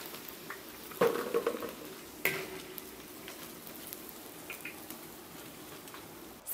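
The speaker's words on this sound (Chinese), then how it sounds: "把油温升高到8成哈，我们还要复炸一次" Crispy battered pork pieces in a second deep-fry in very hot rapeseed oil give a faint, crackling bubble with scattered pops and a couple of sharper clunks, no voices.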